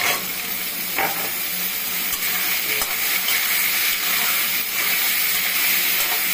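Potatoes frying in a pan with tomatoes give a steady, close sizzle and hiss, with a few soft clinks and stirring scrapes breaking through the constant crackle.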